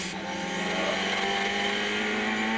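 Heard from onboard the Bond/Caltex Ford Sierra Group A race car at the 1991 Bathurst 1000, the engine holds a high, strained note as it pulls hard, loud and continuous with no voices.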